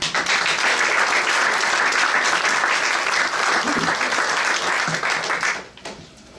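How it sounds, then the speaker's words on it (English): An audience claps steadily in a loud, sustained burst of applause for two NAACP veterans, the clapping thinning out and fading near the end. "Let's give them a hand."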